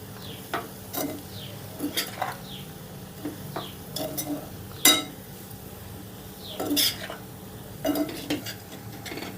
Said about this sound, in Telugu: ఇప్పుడు ఈ మొత్తాన్ని ఒకసారి బాగా కలుపుకుందాం